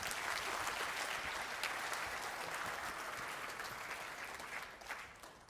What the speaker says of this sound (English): Give her a nice round of applause as she comes up here.